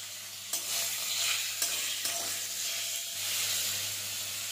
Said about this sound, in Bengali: প্রথমে আমি মাংসের টুকরোগুলো ভেজে নেব।